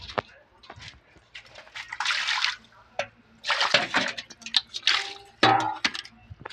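Water being poured and splashing in uneven gushes, close by, with a few clanks in between.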